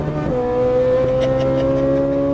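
A Ferrari 458 Italia engine revs hard under throttle, its pitch climbing steadily as a loud, sustained tone before a shift changes it near the start, close and alone with no talk.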